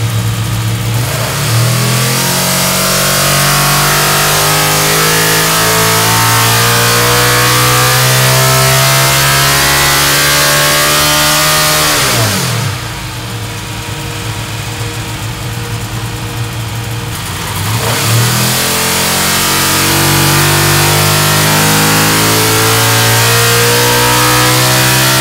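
A loud racing V6 engine, converted from a NASCAR Chevy SB2 V8, screams continuously on a dyno from 6,000 to 9,200 RPM, its pitch climbing steadily, then a brief drop and lull before it winds up hard again.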